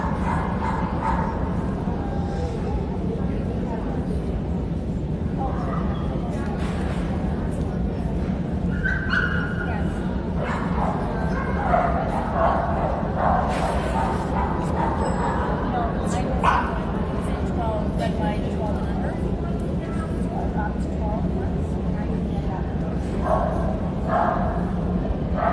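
At a Keeshond national specialty show, open class dogs circle the ring while several Keeshonds bark, yip and whimper intermittently over steady crowd murmur and nearby talking.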